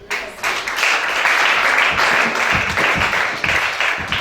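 Church congregation breaking into sustained applause during a Gabonese worship service, a dense wash of clapping that swells and holds steadily for several seconds with scattered louder claps near the front.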